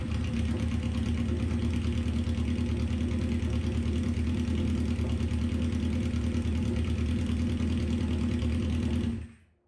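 A Honda CB550 motorcycle engine idles steadily with a fast, even putter for several seconds, then cuts off abruptly into silence.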